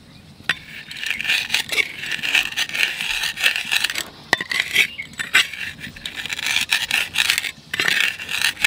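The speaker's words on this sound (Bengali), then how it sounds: "ভাজা জিরেটা একটু গুঁড়ো করে নেবো" Roasted cumin seeds are crushed with a ladle in a home kitchen, giving close, repeated rasping and scraping strokes with a few sharp clicks, uneven in rhythm and with no voices.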